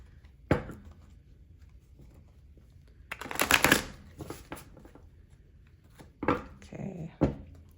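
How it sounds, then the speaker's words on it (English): Short bursts of tarot cards being shuffled and riffled, separated by quiet pauses, close by, with light handling noises between. "Let me shuffle this good."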